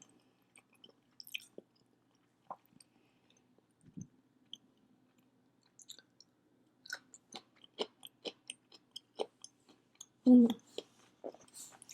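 Soft close-up chewing of salmon sushi, nigiri and sashimi, with quiet irregular wet bites and squishes building in a steady run toward the end after sparse sounds early on.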